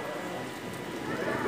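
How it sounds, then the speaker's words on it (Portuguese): Steady rain patters softly in a continuous hiss outside a party hall, fairly faint, with faint indistinct voices in the background. "E tá chovendo, meu povo."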